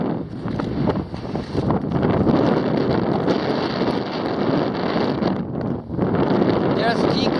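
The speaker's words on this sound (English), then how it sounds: "It's too windy." Strong wind buffets a microphone high on Pico de Orizaba, a loud roaring gust noise that surges and dips throughout, with a voice speaking beneath it.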